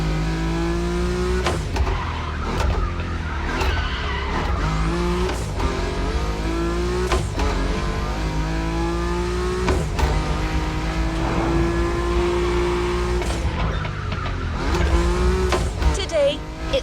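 BMW M5 Drift Edition drifting in The Crew Motorfest: a steady engine drone that rises and falls through repeated revving shifts, with tire squeal over a continuous, loud mix.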